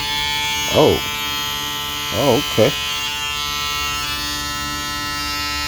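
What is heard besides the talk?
Magnifeko 100xx foil electric shaver running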